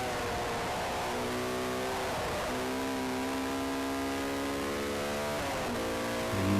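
A race car engine at full throttle on the Brands Hatch GP circuit climbs steadily toward a 9,000 RPM red line, shifting up through the gears in a loud, continuous in-car wail with rising harmonic sweeps.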